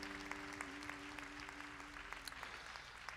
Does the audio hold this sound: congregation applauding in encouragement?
yes